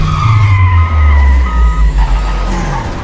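Tires skidding during a car chase in the film Baby Driver: a loud, close screeching squeal layered over a deep engine rumble, with tonal tire whines shifting pitch across the few seconds.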